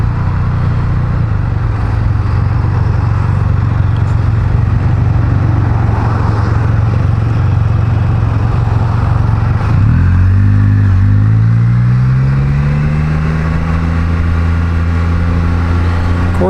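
A Can-Am Spyder F3 S three-wheeler engine is revved with a light twist of the throttle. A loud, steady drone climbs in pitch partway through as the revs rise, with wind and road noise behind it.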